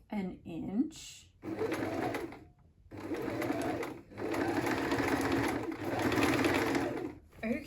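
Sewing machine running in several sustained bursts while stitching the waistband of a skirt, close and steady with short pauses between runs.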